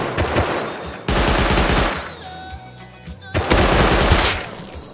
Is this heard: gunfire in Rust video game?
yes